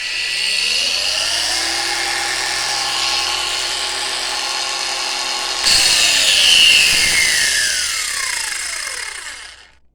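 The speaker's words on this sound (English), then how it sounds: "Angle grinder's got a soft start to it." An Ozito cordless battery angle grinder spins up with a soft start, its whine rising steadily in pitch, then holds a loud, steady high-pitched running tone before winding down at the end, with no voices.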